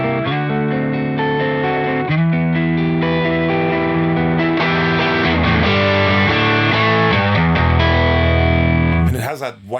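Electric guitar played through a Plexi Breed overdrive, a Marshall-style drive pedal, in MOD Audio, giving a thick, continuous distorted chordal tone with heavy low end that rings steadily before cutting off abruptly at the end.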